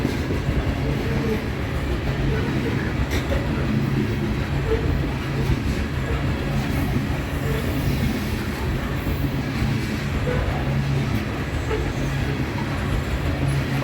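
An eastbound coal freight train rolls slowly past on the Heartland Division in Ashland, Nebraska: a continuous, close rumble with steady clickety-clack from the wheels and faint squeals, running throughout without a break.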